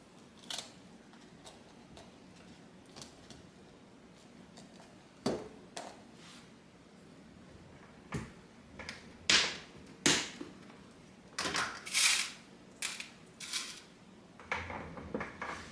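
A hole being made in a bag for a rivet, heard as scattered sharp clicks, taps and punch strikes close by, growing more frequent and louder toward the end, with no talking.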